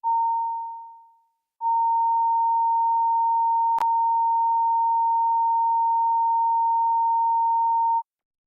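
A steady sine-wave test tone for a sound check in a parliamentary committee room, cutting out briefly near the start before resuming and holding unbroken with a tiny click midway, no voices present.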